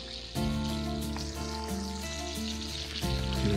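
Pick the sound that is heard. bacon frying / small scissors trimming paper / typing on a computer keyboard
bacon frying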